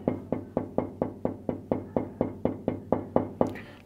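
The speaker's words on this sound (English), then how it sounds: "So they hear me knocking" Someone knocks steadily on a door, about fourteen evenly spaced firm raps in a row, close and clear, with no voices during the knocking.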